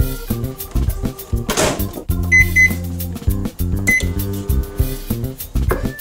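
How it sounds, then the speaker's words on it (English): A microwave oven heats butter, sweetened condensed milk and sugar for chocolate fudge, running steadily with a couple of sharp electronic beeps over continuous background music. "Now we're going to microwave this for 2 minutes."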